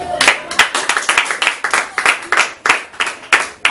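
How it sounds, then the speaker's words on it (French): A church congregation claps rhythmically in praise of God, sharp regular hand claps in a steady beat, close and loud, repeating evenly across the whole stretch. "Applaudissez donc pour Dieu."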